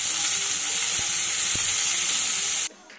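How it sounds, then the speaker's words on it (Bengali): Chopped onion fries in a pan with a dense, steady sizzling hiss and a few soft knocks of stirring, cutting off abruptly near the end. "এবার পেঁয়াজটাকে অনবরত নেড়ে চেড়ে ভেজে নিতে হবে।"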